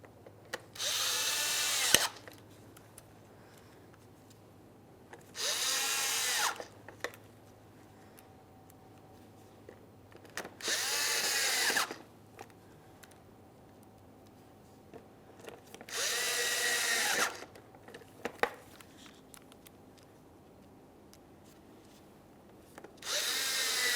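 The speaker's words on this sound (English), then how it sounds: "install all 6 of my Phillips head mounting screws" A power drill drives Phillips head mounting screws into a 2014-2018 Mazda 3 grille, five separate loud whirring bursts of a couple of seconds each, spaced by quiet pauses with faint handling noise, close by and without talk.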